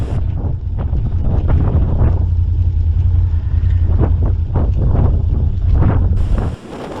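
Strong wind gusting through Jawbone Canyon, buffeting the microphone with a heavy, continuous low roar and rumble, loud and close throughout.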